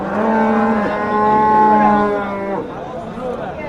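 Cattle at a livestock market low in long, drawn-out moos, a couple of overlapping calls carrying loud and close, with faint crowd chatter in the background.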